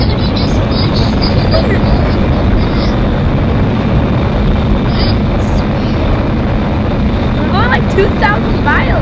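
Steady airplane engine drone in a flight video game while flying low over a city, a continuous loud roar with no breaks throughout.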